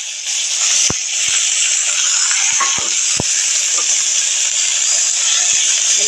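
Leta fried in hot, smoking oil in a home kitchen pan, a loud steady sizzle and hiss throughout with a few sharp taps of stirring, no talking.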